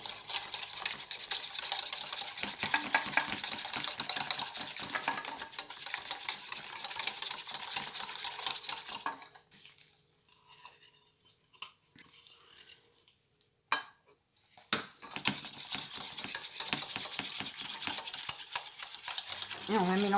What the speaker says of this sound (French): Et on va battre comme ça. On mélange tout doucement.